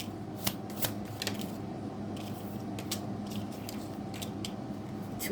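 Tarot cards are shuffled and drawn one after another, giving a string of crisp riffling and slapping bursts over a low, steady room hum. There is no talking.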